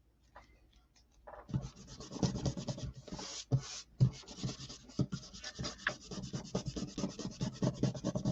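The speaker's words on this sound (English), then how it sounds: "Clean it up with the kneaded eraser." A kneaded eraser rubs across inked comic artwork on paper in steady, close scrubbing strokes after a quiet start, with short pauses between bursts.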